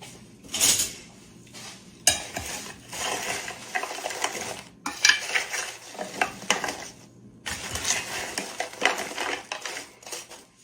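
A metal spoon tosses food in a dish for a church potluck dinner, giving bursts of clinking and scraping against the dish in uneven strokes, close and loud, with brief gaps between them.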